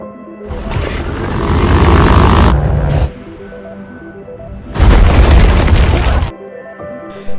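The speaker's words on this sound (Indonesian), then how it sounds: "membuat pesawat yang ditumpangi mereka mengalami kerusakan mesin dan harus mendarat secara mendadak" Aircraft engine failure and emergency landing in a film: two long, loud roaring blasts of rumbling noise separated by a quieter stretch of low droning hum, with a faint tonal score underneath.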